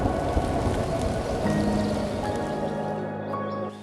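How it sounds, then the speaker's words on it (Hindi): Rain beginning to fall on a mountain trek in Palachak Valley, a steady broadband patter of drops on surfaces that holds throughout, with faint tonal hums drifting in underneath. "मौसम बदला और बारिश आ गई"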